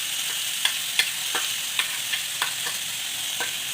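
Onion fries in a pan with turmeric and whole cumin, giving a constant hiss and sizzle broken by a series of sharp scrapes and taps as it is stirred, close and steady with no talking.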